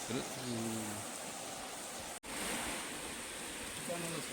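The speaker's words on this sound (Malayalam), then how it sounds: "അടിപൊളി വെള്ളച്ചാട്ടം" Kanjar waterfall in Idukki roars as a dense, steady wash of falling water heard close by, with a voice briefly speaking over it at the start and again at the end.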